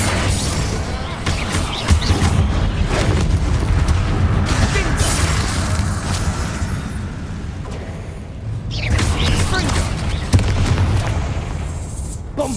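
Bombarda and Confringo spells burst in Hogwarts Legacy during a fight with spiders, dense booming blasts and crackling impacts layered over continuous combat noise, with a few sharper pops standing out.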